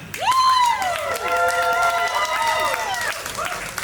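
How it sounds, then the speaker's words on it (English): Wedding rehearsal party guests at a garden venue cheer with rising whoops and clap together, a loud, dense burst of celebration that carries steadily for a few seconds. "Can we get some applause for Preetham and Meghna?"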